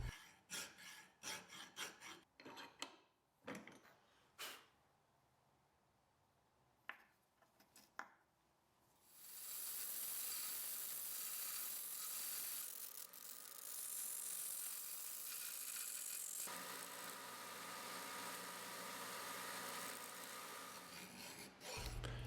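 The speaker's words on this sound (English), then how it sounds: "I went in with the hand file, took off the rough edges and filed them down." Hand file rasping over the rough edges of a forged steel dog-collar buckle, first in short scattered strokes, then a long continuous bout of loud, close, steady filing.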